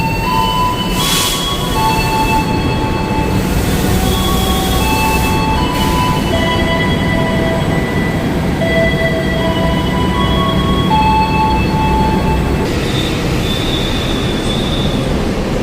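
The Parahyangan passenger train with a panoramic car rolls from Bandung toward Gambir, loud and continuous, with high metallic wheel squeals rising and fading repeatedly over the rumble.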